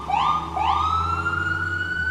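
Emergency vehicle siren on a city street in San Diego, sweeping up in pitch twice before holding a steady wail, loud and close throughout with low traffic rumble underneath.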